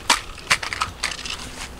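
Hot Wheels toy monster trucks, including a Grave Digger and a fire engine, crash together in a run of sharp plastic clatters and bangs, several quick impacts close to the microphone with no talking.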